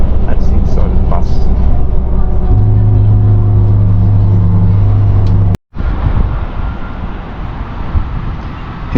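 Loud, steady engine drone and road rumble fill the interior of a moving bus on a Melbourne route, with a brief sharp dropout near the end before the rumble resumes.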